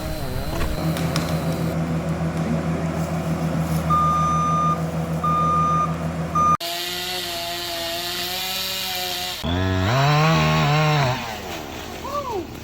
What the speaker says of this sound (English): cut out a bunch of blowdowns in front of a skid steer, which will then push them off the road